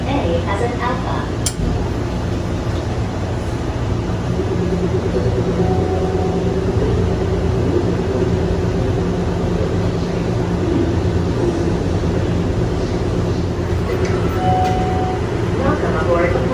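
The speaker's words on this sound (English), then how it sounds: "This train is departing." Hartsfield-Jackson Atlanta airport Plane Train people mover pulling away at night, a continuous low rolling rumble with rising motor whine tones, heard from inside the car under a recorded announcement voice.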